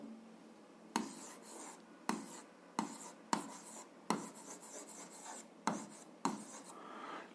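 Pen or chalk writing out a formula by hand for a 7th-grade algebra exercise: a series of short scratchy strokes in bursts with brief pauses, close and fairly quiet, no talking.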